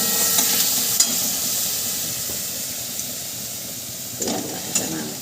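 Onion paste fries in a pan for crab curry, giving a steady loud sizzle and hiss throughout, with a few stirring scrapes near the end.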